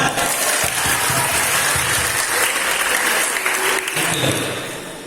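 An audience at a Catholic youth gathering applauds loudly and steadily, a dense wash of clapping that fills the space without pause.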